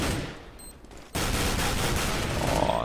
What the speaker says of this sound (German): Nuki lockt auch den Schuss raus.